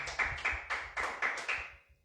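Church congregation clapping in strong, rhythmic bursts, about seven sharp surges of applause that swell and fade, close and loud with no talk over it.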